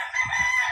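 A rooster crows once, a short loud call heard up close with no other sounds around it.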